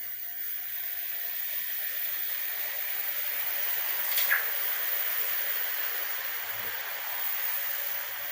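Juice poured slowly into a hot pan of browning, frying food gives a steady broadband sizzling hiss that stays even throughout, with a brief brighter spatter near the middle.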